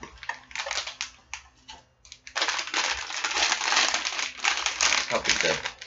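A Loot Crate mystery mini blind pack with a silver foil wrapper is torn open and crinkled up close, rustling and crackling loudly with a few brief pauses.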